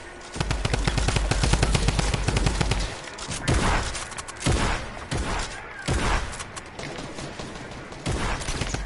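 Rapid bursts of automatic gunfire in a shooting video game, a dense loud rattle for the first few seconds, then separate sharp shots and short volleys.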